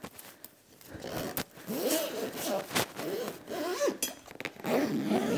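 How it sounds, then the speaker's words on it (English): A zipper being drawn around a fabric box spring cover, heard close up as a series of quick rasping pulls broken by short pauses, with faint handling scrapes in between. "Okay, and then we zip it up."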